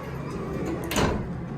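An Otis hydraulic elevator door slides along in a brass-and-mirrored cab at a Hilton Garden Inn, a short rumbling glide that swells near the end, heard close with faint room noise.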